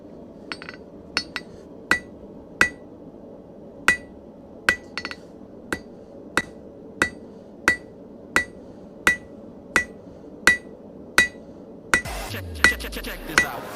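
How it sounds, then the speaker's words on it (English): Repeated hammer blows flattening a piece of steel, sharp metallic strikes falling in a steady rhythm of about one per second, close and ringing, with a clatter of metal near the end. "Hammer time."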